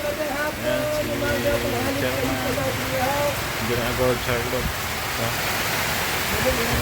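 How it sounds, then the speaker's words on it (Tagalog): Heavy rain pours down in a dense, constant hiss while people sheltering from it talk underneath at moderate volume. "ang lakas ng ulan"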